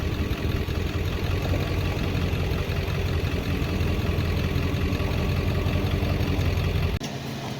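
A Polaris Ranger utility vehicle driving into a shop, its engine running with a steady, loud rumble that shifts slightly near the end, no voices.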